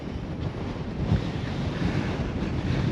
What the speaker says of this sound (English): that was windy